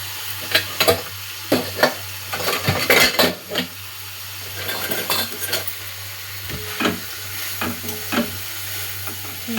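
Mixed vegetables are stir-fried in a pan over a low flame, with soft sizzling beneath repeated scraping and clinking of a utensil against the metal in irregular strokes.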